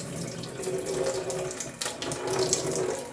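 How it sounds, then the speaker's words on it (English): Water splashes and pours steadily from a vessel into a sink, a continuous close gush that briefly falters before flowing again. "tip the water off the side to get the water out"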